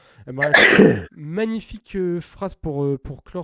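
A single sharp sneeze from a French-speaking podcast host, loud and close, followed by another person talking.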